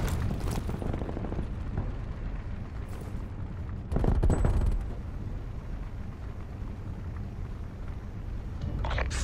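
An incendiary grenade burns with a dense, roaring crackle in Call of Duty: Black Ops Cold War, a continuous loud rumble that swells briefly midway and again at the end amid game noise.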